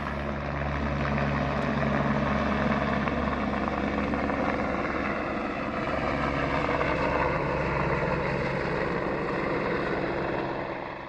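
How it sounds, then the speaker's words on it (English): Continuous throbbing drone of a helicopter resupplying a mountain refuge in the Vanoise, French Alps, loud and steady for the whole stretch, its rotor chop holding as it passes overhead. "This helicopter's making a Refuge resupply run."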